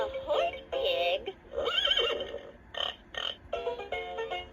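A toy horse from a magnetic fridge farm animal set gives a recorded electronic neigh, a bright wavering whinny in several bursts over a few seconds, close and fairly loud.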